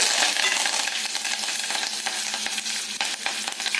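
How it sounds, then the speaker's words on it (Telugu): Garlic cloves and curry leaves sizzle loudly in hot oil, a dense, continuous crackle with sharp pops scattered throughout and no voices. "వేడయ్యాక వెల్లుల్లి రెబ్బలు కరివేపాకు వేసుకుందామండి"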